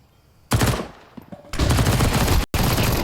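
Rapid automatic MP9 gunfire in Counter-Strike during a MOUZ vs 9z match, loud bursts from about half a second, a short pause, then a sustained stream with a brief break near the end.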